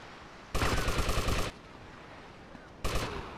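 Bursts of automatic gunfire in Grand Theft Auto Liberty City Stories: one sustained volley of rapid shots about a second long, a pause, then a shorter burst, loud and close against quiet game background.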